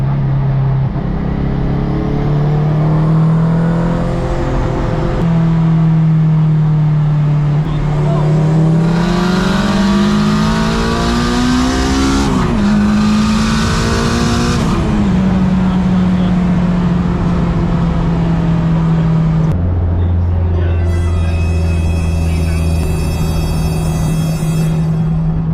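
A tuned Honda Civic drag races a supercharged Lexus, engines droning loud and close as revs climb through gear changes with a sharp burst of high-rev acceleration midway, then a distinct second engine note joins near the end.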